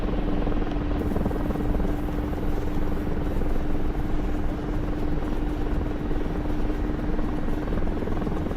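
A VTOL aircraft in a video game hovers and flies with a continuous loud rotor-like drone and steady buzzing hum, unbroken across the whole stretch with no voices over it.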